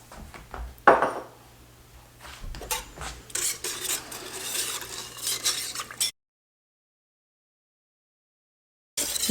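Peach pie filling with lemon juice is whisked in a pot over medium heat as it thickens toward a caramel-like consistency, giving close scraping and stirring strokes that come in bursts, then a stretch of silence before the stirring resumes.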